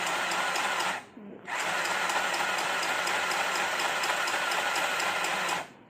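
A small mini sewing machine runs close by, its motor whirring steadily with a rapid needle clatter; it stops briefly near the start, then stitches on without a break until it shuts off.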